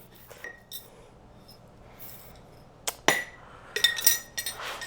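Glass canning jars being filled with molasses beans, several close, bright clinks and taps scattered irregularly, growing busier toward the end, with no talking.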